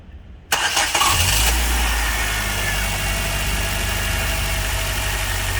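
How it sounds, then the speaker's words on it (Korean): A Hyundai Starex camper van's engine cranks and catches after a short silence, then settles into a loud, steady idle close by while coolant is circulated during an antifreeze change. "아까 마찬가지로 시동을 걸어서 순환을 한번 시켜주도록 하겠습니다"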